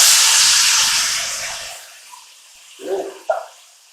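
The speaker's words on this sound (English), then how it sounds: "now we're going to add in our diced tomatoes" Diced tomatoes hitting a hot pot after searing a Texas-style pot roast: a loud hiss that fades over about two seconds, followed by a couple of soft clunks and stirring sounds.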